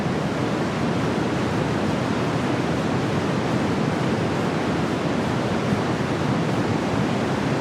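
Recorded rain used as white noise, a dense, even hiss of steady rainfall with no variation, moderately quiet and continuous.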